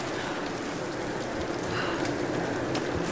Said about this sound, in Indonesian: Gak bisa dong. Hujan loh.